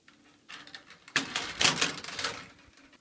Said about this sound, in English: I'm gonna go ahead and cut these wires out so we don't need them anymore